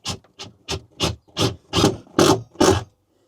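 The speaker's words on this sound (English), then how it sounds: "It's a little bit awkward getting the screwdriver in." Eight evenly spaced rasping twists of a hand screwdriver driving a screw inside a camper van conversion, each stroke growing slightly longer and louder, close up and alone.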